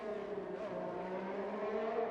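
A Ferrari race car engine in an eRacing video game at Circuit of the Americas drones at steady high revs, a continuous even whine with no talk over it.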